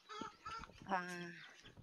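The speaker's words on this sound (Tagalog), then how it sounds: "Yung mga manok namin" Farm chickens cluck and one lets out a short, drawn-out call close by, with some background murmuring.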